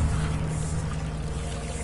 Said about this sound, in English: I'm having a shower.